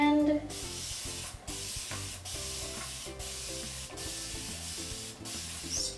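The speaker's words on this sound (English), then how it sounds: "So I'm gonna take my spray bottle, give it a good shake just to mix and distribute all the products" Hair being spritzed with a spray bottle to refresh curls: a rapid series of short, close, hissing sprays in quick bursts, about half a dozen over six seconds, with faint handling noise between them.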